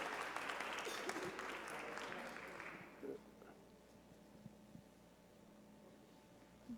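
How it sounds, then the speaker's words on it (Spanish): Brief, faint applause from a small audience at a medical talk on dentistry and cancer patients, a soft patter of clapping that fades out after about three seconds and leaves a quiet room with an occasional low voice. "pido un aplauso"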